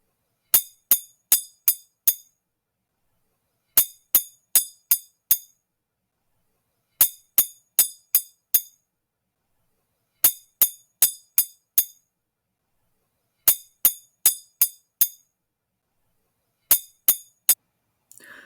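Glasses clink together in a toast, sharp bright taps arriving in quick bursts of four to five, repeated in regular groups with silent gaps between, close and clear with no talking.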